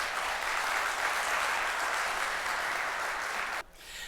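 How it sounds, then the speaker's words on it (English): A conference audience at an opening session claps in dense, steady applause for several seconds, then the clapping cuts off abruptly near the end. "can we get a round of applause for all of the hard work these people put in?"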